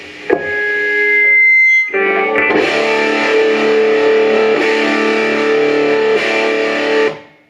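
Electric guitar through a DIY MXR Distortion+ clone pedal with distortion at 75% and volume full, one sustained fuzzy chord that rings for about a second and a half, then a second strummed chord held loud until it cuts off.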